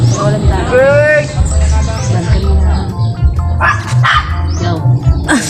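A dog barks repeatedly in short yips and bow-wows at a house while people shout and talk loudly nearby, the barking cutting through the busy voices.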